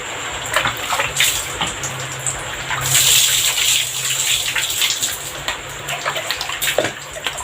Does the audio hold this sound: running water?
yes